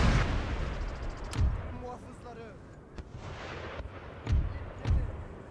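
Cannon artillery booms in a Napoleonic-era battle in the Napoleon Total War video game, several deep thuds spaced across the clip over a low background, with faint distant shots.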